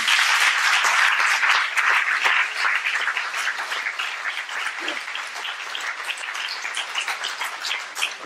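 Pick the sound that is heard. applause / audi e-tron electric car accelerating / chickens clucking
applause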